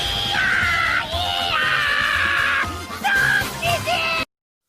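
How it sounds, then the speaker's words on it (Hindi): A Demon Slayer anime character screams loudly and shrilly in long sustained wails, with a few brief breaks and gasping shifts in pitch, close and piercing before cutting off abruptly. "इसके चीखने का आवाज़ इतना ज़्यादा डेंजरस है"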